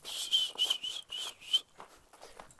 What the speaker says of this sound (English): I can't really whistle that good.